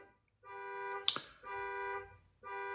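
A neighbor's car alarm blares nearby in repeating steady electronic tone bursts, separated by short pauses, with a sharp click or snap partway through.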